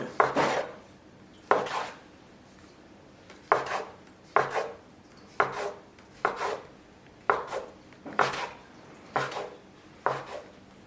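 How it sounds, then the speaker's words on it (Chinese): A knife chops through dough rolled into a long strip, cutting equal pieces for spring pancakes, about a dozen crisp thuds on a board at an uneven rhythm, close and clear with no talking. "切分成大小均等的面剂子"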